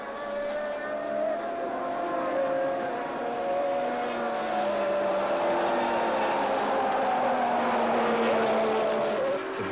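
Formula 1 cars of the 1982 season, including Brabhams, a Williams and Renaults, racing together, their high engine notes overlapping and sweeping up and down in pitch as several cars pass close by, loud and continuous.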